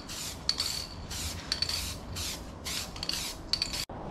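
Short hissing bursts of Plasti Dip aerosol spray on a teardrop camper, about a second each and separated by brief pauses, close and steady, with no voices.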